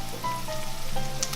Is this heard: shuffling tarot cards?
no